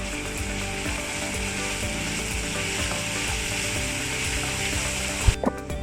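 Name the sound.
capsicum sautéing in a pan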